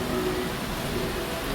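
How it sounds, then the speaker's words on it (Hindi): Heavy rain falling outside a home during a sudden downpour, a dense, steady hiss that fills the whole moment without a break. "सो अभी देख सकते कितनी भयंकर बारिश हो रही है"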